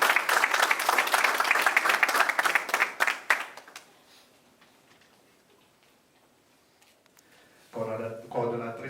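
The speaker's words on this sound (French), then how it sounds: "Applaudissements nourris" Audience applause at the opening of a regional general assembly, loud dense clapping for about three seconds before fading out, then a voice speaks.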